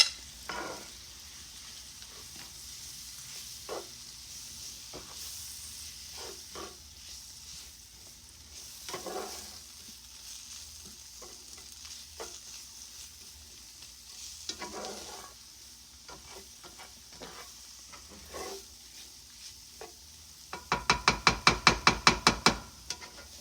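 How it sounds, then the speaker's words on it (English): Flour cooks in a hot cast iron pan with a soft, steady sizzle while a utensil repeatedly scrapes and stirs the pan. A rapid burst of clicking comes near the end. "The flour is cooking up."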